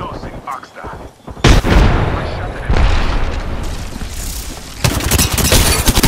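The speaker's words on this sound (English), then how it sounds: "Throwing grenade." A grenade blast in a shooter video game hits as a sudden loud boom, followed by sustained heavy gunfire and further explosive bursts filling the rest of the mix.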